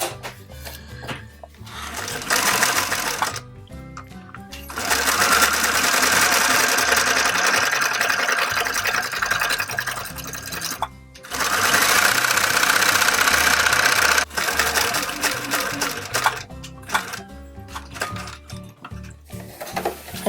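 A sewing machine stitches an applique in close bursts of rapid mechanical whirring, starting and stopping several times with short pauses between runs.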